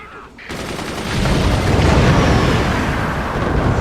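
Dense, sustained fire from manual gunners in the Forts game: a loud, continuous rattle that starts abruptly and swells into a heavy, steady barrage with booming undertones, no pauses throughout.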